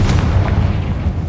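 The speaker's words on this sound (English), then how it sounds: "Confringo." A Confringo fire spell in Hogwarts Legacy goes off as a loud, rumbling blast with a sharp crack at the start, booming close and full for a second or so.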